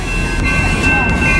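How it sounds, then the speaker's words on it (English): A train or tram runs along a road in Austin, Texas, with a loud, steady rumble and high squealing wheel tones that pass close by. "Yeah, is it a tram because it's on the road?"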